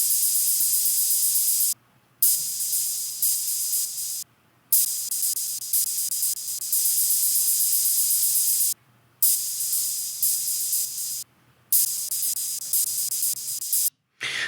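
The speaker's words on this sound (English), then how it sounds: "This is a set of hi-hats programmed different ways." Programmed hi-hats at flat, even velocity play a rigid machine-gun groove, a dense bright ticking hiss with no accents. Brief silent gaps break the steady pattern.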